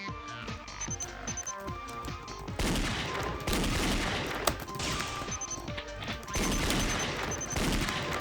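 Gunfire from shooting in the video game Danganronpa Another, rapid bursts of shots layered over busy game music and effects for several seconds, with sharp repeated hits and no speech.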